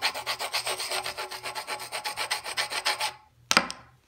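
A hand rubs briskly back and forth across a painted marble surface in about a dozen even, rhythmic strokes. The rubbing stops abruptly, then a single sharp knock sounds near the end.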